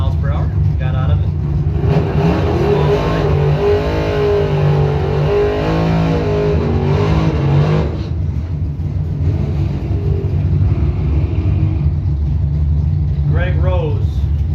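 At a bracket drag racing event, a race car engine rumbles and revs nearby under a continuous announcer's voice, the engine tone wavering up and down before settling into a lower idle-like drone.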